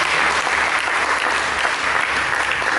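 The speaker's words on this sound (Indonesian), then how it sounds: "Mari kita berikan tepuk tangan bagi Tuhan." A church congregation applauds together, a dense, steady wash of clapping that holds evenly from start to finish with no voices over it.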